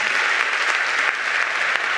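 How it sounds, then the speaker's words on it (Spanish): A conference audience at a roundtable plenary on science entertainment gives a strong, steady round of applause, with close, dense clapping throughout and no voices. "quiero pediros un fuerte aplauso para el equipo de redes sociales"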